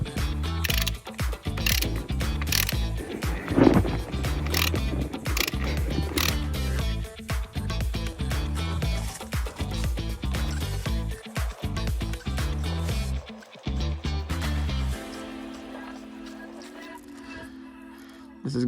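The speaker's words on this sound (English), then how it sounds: "squeeze 1 liter of gearbox oil down this hole" A small hand pump squeezes gearbox oil into a BMW Z3 gearbox, giving steady rapid ratcheting clicks and mechanical clatter close up throughout, easing into a quieter hum near the end.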